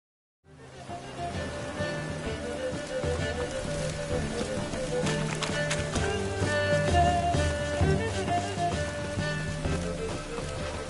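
Steady rain pours in a video game set at night, a dense, even hiss that starts abruptly and continues unbroken at constant loudness, with faint music-like tones beneath.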